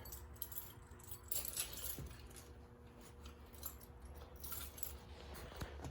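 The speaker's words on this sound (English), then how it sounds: "hold on, I'm triggering my truck keys here." A bunch of truck keys jangled by hand, bright metallic clinks and rattles in quick irregular bursts, close but quiet, over a faint steady low hum.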